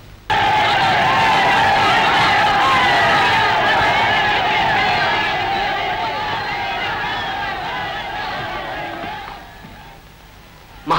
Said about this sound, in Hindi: महाराणा लोगों की भीड़ बराबर बढ़ती ही चली जा रही है वे लोग उत्पात कर रहे हैं